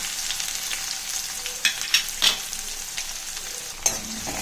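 Sliced onions with cinnamon, cloves and bay leaf sauté in hot oil with popped mustard seeds in a kadai, giving a loud, steady sizzle broken by a few sharp clinks and scrapes of the ladle.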